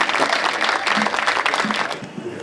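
An audience at a Hindi comic poetry gathering (hasya kavi sammelan) claps loudly and continuously to welcome a poet, a thick burst of many hands that fades out over the last half second.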